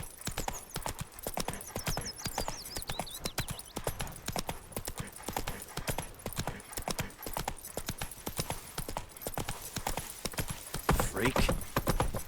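A horse gallops in The Witcher 3, its hooves drumming in a fast, steady, continuous rhythm at low volume, with a brief whinny-like cry near the end.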